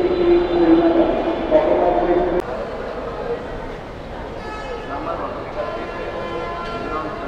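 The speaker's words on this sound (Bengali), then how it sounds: "এই হচ্ছে রাজশাহী রেলওয়ে স্টেশন, যে অনেকগুলো ট্রেন এখন একসঙ্গে ছাড়বে।" Busy Rajshahi railway station with several trains rumbling close by as they prepare to depart, a brief horn-like tone at first, and a crowd murmuring underneath.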